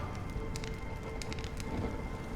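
Rain falls steadily in Honkai: Star Rail, a dense patter of drops with scattered sharper taps over a soft constant wash, no voices.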